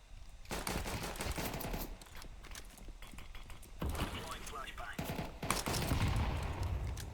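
Rapid bursts of automatic gunfire crackle repeatedly in CS2 (Counter-Strike 2), with excited voices talking over the shots.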